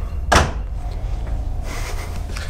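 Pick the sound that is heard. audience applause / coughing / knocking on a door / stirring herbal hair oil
knocking on a door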